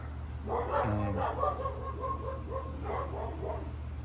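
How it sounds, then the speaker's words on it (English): Dogs barking a few times in the background, muffled and somewhat distant, over a steady low hum. "The dogs are barking at other dogs."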